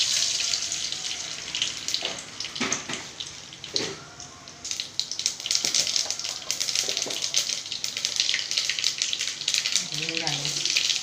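Mustard seeds crackle and sputter in hot oil for a sambar tempering at home, a steady dense hiss with scattered pops running throughout, with brief clattering sounds and a short tonal squeak near the end.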